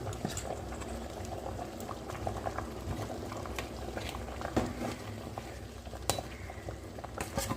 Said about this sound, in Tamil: கொதிச்சிட்டுது